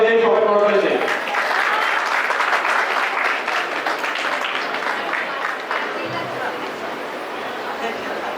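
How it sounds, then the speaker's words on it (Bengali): A crowd claps steadily at a cultural night event, with a short spoken phrase at the very start before the applause continues for several seconds. Dogs may be barking faintly underneath. "সবাই করতালি দেই, সবাই করতালি দেই।"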